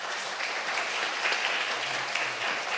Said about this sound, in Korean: 여러분들 힘차게 박수하면서 환영하고 축복하는